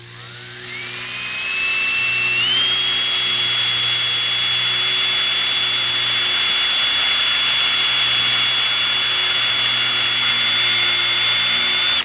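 An electric drill with a 1/16 bit spins up into a 5/8 wooden dowel rod, its whine climbing in pitch over the first couple of seconds and then holding a loud, steady high tone until it cuts off.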